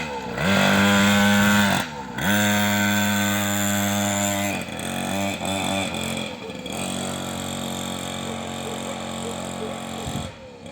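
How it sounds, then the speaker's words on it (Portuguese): A 50cc MXF mini motocross motorcycle revs and rides close by, its small engine whining through rising and falling gear pitches, cutting briefly between throttle bursts. "vou mostrar a primeira vez que eu andei de moto, minha moto cinquentinha"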